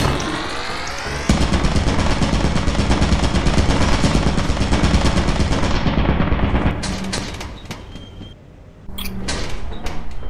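Automatic turret in the video game Lethal Company firing a dense, sustained burst of rapid gunfire that runs for several seconds, then stops abruptly, followed by a few sharp scattered clanks and shots.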